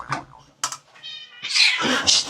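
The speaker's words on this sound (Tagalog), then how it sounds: "Mga pusa to." Several cats meow in a home kitchen during breakfast cooking, a few short cries followed by a louder, drawn-out wailing meow, close and loud.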